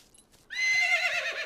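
A horse in a stable neighs in a French-language animated children's cartoon. One loud, close whinny rises sharply and then trails off.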